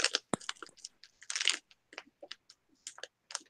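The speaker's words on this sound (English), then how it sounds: "Time for some crunching munch." Crunchy snack chewed close to a microphone, irregular bursts of crisp crunching separated by short silences, fairly loud, with no talking.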